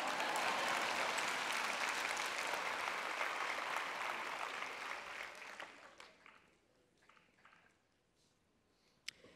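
Church audience at a Christian sermon breaking into sustained applause that gradually fades out into quiet room sound, with no talking.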